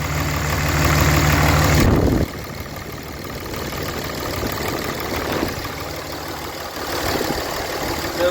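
A car engine, on a flipped Equinox or black dually truck, running steadily after startup: a loud rumble for two seconds drops abruptly to a quieter, even idle that holds with slight swells, close and with no voices.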